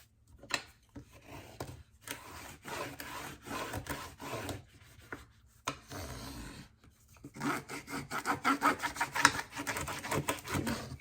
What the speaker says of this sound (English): good rub on there to hear it all and get it good and flat